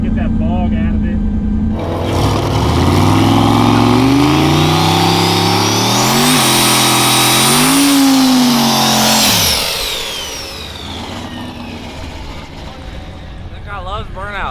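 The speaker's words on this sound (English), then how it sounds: "Trying to see what it'll do off the line, give it a little bit more power" A Corvette launches hard off the line on a drag strip test pass, its engine roaring loud and close as it revs up through rising gears before fading as the car pulls away.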